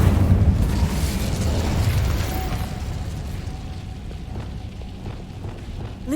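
Incendio fire spell bursting in Hogwarts Legacy, a heavy low whoosh and rumble that opens loud and slowly fades into a crackling, fiery tail with a faint ringing tone partway through.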